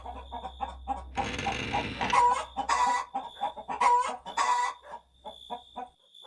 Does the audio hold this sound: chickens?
yes